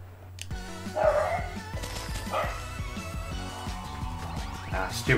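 A dog barks in short repeated woofs over a busy background of game music, the barks fairly close and moderately loud.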